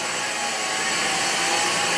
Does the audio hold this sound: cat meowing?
no